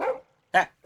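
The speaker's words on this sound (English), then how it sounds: "There's the occasional dog bark," A dog barking, three short sharp barks close by, with a brief exclamation from a person.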